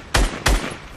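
Gunfire in a shooter video game: two sharp, loud, close shots about a third of a second apart, each with a short booming tail, then a faint third crack at the end.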